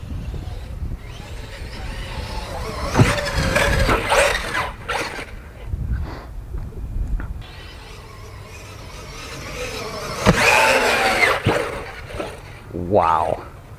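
A small electric motor whines and revs in bursts, with rattling thumps as an Arrma Senton 6S electric RC monster truck lurches and lands, mixed with a dog barking nearby.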